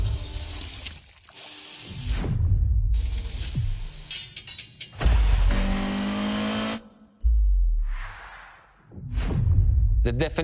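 GTO supercar engine in The Crew Motorfest racing game revving loudly in several bursts, with gaps and rising and falling pitch, close and prominent.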